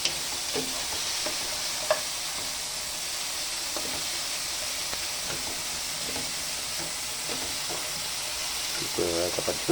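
A spoon stirs pink salmon sinigang sa miso in a pot, making soft scraping and sloshing sounds over a steady simmering hiss, with a few faint knocks against the pot.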